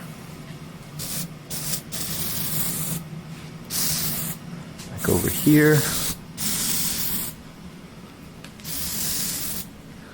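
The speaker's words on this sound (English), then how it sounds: "We're going to do another spray." Several short bursts of hissing aerosol spray paint on 1/64-scale NASCAR model cars, close by, separated by brief pauses, with a person speaking briefly in the middle.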